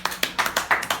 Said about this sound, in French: On applaudit la parole de Dieu.